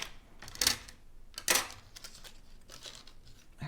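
A Mago Melody branch die being cut for a stamping craft project: two crisp crunching crackles close by, each followed by quieter rustles and handling noise, with a thump at the end.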